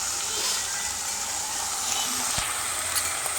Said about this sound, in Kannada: ಫಸ್ಟಿಗೆ ಎಣ್ಣೆ ಹಾಕಿ, ಆಮೇಲೆ ಕರಿಬೇವು, ಈರುಳ್ಳಿ, ಬೆಳ್ಳುಳ್ಳಿ, ಆಮೇಲೆ ತೆಂಗಿನಕಾಯಿ ಹಾಕಿ ಚೆನ್ನಾಗಿ ಫ್ರೈ ಮಾಡ್ಕೊಳ್ಬೇಕು